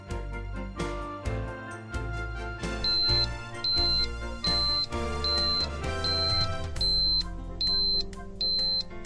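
Repeated electronic gas detector alarm beeps sound in a steady rhythm over a background of music, bright and clearly audible.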